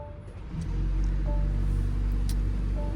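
A brand new 2025 BMW with about 100 miles on it starts and settles into a steady warm-up idle, a low continuous engine rumble that fills the clip after a quieter first half second.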